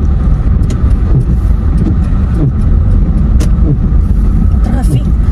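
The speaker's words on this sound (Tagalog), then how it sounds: "Traffic." Steady road traffic rumble heard from inside a moving car in Batangas City, a continuous low engine and tire drone with faint passing vehicle noise, no clear voices over it.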